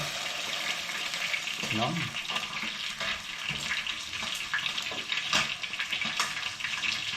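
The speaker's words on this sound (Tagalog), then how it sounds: "Tubig na po mga kautol, 2 tasa." Two cups of water poured into a cooking pot, a steady splashing, gurgling pour running throughout at close range, with someone speaking briefly over it.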